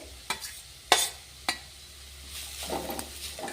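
Grated carrot, garlic and other vegetables stirred in a frying pan for a bread sandwich, with a few sharp scrapes of a utensil against the pan over a low sizzle that grows busier toward the end.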